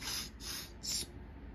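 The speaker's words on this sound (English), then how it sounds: "We shoot enemies with the spray." A skunk sprays in three quick, soft hissing bursts, close and fairly quiet, with a short pause between each puff.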